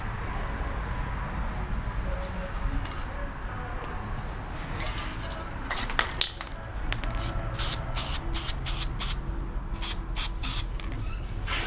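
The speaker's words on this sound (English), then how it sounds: "can't film and spray at the same time" Steady hiss of a spray gun painting a 1936 Studebaker pickup runs throughout, breaking into short repeated spurts near the end, with a couple of sharp knocks midway.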